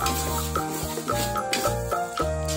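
Oil added to tomato sambal frying in a pan: a continuous close sizzle with repeated stirring scrapes of a spatula, over steady tonal sounds in the background.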